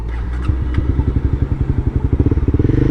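A motorcycle engine sputters in uneven, rapid pulses that grow choppier, like it is struggling and about to die, close and fairly loud.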